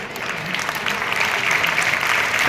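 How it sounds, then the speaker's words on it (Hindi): An audience at a school exam-stress seminar claps steadily, a dense round of applause that swells slightly toward the end, with faint voices underneath. "ये तालियां मेरे को बिठाने के लिए बज रही है"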